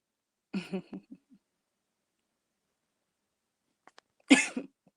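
A sick person coughs a few times in a short burst, then after a pause gives one sharp, louder cough up close.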